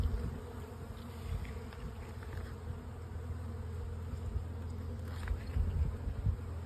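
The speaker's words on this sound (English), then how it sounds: "Lots of bees up in the top, so they're working on it" Dense, steady buzzing of many honey bees in a hive, close by, a continuous low drone with no voices.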